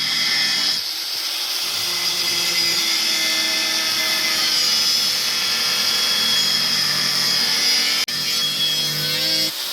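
A power tool cuts rusted metal parts of a boat's engine box ahead of welding: a loud, steady, high-pitched grinding whine runs close and continuously, with a brief dip near the end and no talking.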